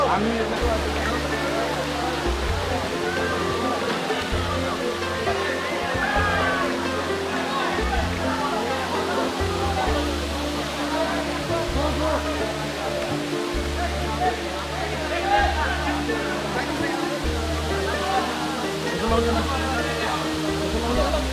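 Steady roar of the Khoiyachora waterfall on a hill trek, a dense continuous wash of falling water with low rumble, heard throughout with voices of people nearby under it.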